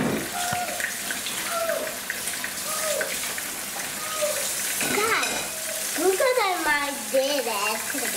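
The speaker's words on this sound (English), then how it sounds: "The oil is hot, so I'm just gonna add the fish." Tilapia fish frying in hot oil gives a loud continuous sizzle and crackle throughout, with a voice speaking over it in short phrases.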